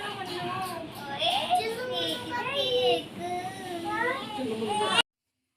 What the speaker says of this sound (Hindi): बच्चों का शोर आपने सुना ही है